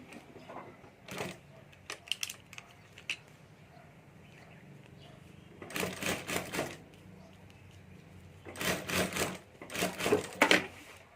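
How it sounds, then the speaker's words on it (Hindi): A sewing machine stitches a handbag strap in several short bursts of rapid mechanical chatter, separated by quiet pauses. "तो यहाँ मैं बड़ी सिलाई करके यह चिपका देता हूँ"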